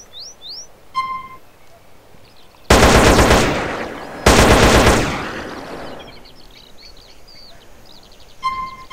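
Loud automatic gunfire from a modded weapon in GTA San Andreas: two long rattling bursts in the middle, with sparse chirping and ambient game sounds before and after.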